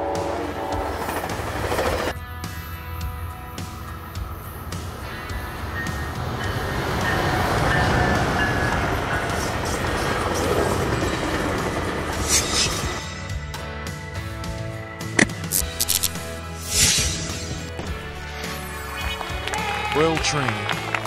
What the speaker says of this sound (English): Commuter trains are a type of railway vehicle used to travel short distances within the city